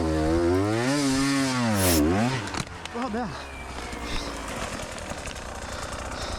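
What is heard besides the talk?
motorcycle falling during a hill climb, in a viewer's video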